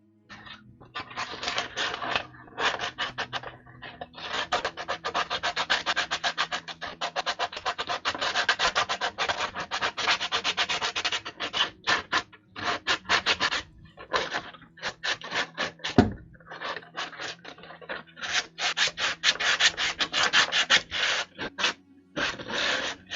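A thick, chunky wooden carving of stacked penguins is sanded by hand, giving continuous scratchy rubbing strokes in bursts with short pauses, close and fairly loud.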